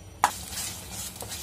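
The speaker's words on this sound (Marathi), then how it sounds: "तर आपण छान भाजून घेऊया अगदी" Chicken pieces being stirred and roasted in a homemade masala in a pan, with one sharp scrape of a spoon near the start, a soft second knock later and a faint steady sizzle throughout, close by.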